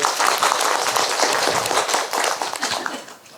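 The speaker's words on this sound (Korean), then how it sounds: "여러분 박수 부탁드릴게요" A studio audience at a Buddhist monk's lecture on the art of happiness claps steadily, a dense, even wash of many hands that holds for a few seconds before tapering slightly at the end.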